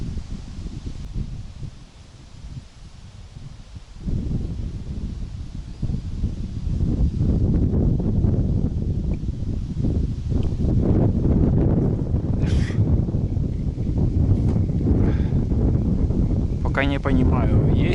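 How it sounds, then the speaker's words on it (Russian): Strong wind rises during a storm at an outdoor bottom-line fishing spot, buffeting the microphone with a steady rough roar and gusts. Voices can be heard at times beneath the noise. "Поднялся сильный ветер, штормит."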